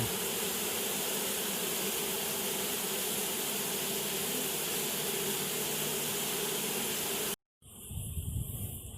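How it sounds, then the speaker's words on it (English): A swarm of honey bees buzzing at a home apiary, a dense, continuous hum that stays loud and even, then cuts out abruptly and returns as a thinner, closer buzz. "I love these bees."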